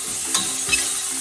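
Ground beef, 85 percent lean, browning in a pan lightly sprayed with cooking spray: a loud, dense, continuous sizzle right up close, with two faint stirring scrapes and no speech.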